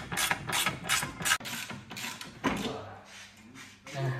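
A mini ratchet wrench tightening thick screws while mounting a recessed TV into a feature wall, giving close bursts of fast ratchet clicking and scraping with short pauses between turns.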